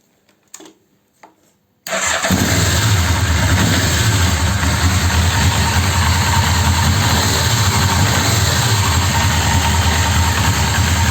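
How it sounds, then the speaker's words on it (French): A motorcycle engine with carburetors turns over after a couple of faint handling noises, catches and settles into a steady, loud idle that runs close and uninterrupted to the end. "Donc là je vais essayer de démarrer la moto."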